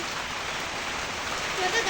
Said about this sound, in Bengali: এই দেখেন শুরু হলো বৃষ্টি